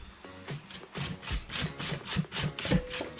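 A carrot rubbed hard against a hand grater for coleslaw, giving quick repeated rasping strokes in a steady rhythm, close and fairly loud, with no talking.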